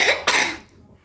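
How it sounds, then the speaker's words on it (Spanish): A young child coughs twice in quick succession, loud and close, while recovering from a bad flu, with a short breathy tail after the coughs. "qué tos que tiene mi hijito"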